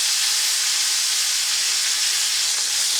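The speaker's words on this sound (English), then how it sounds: "We want to sear every surface we can find" Beef fillet searing in a hot skillet makes a loud, steady hiss and sizzle that holds unbroken throughout, close by and with no voices over it.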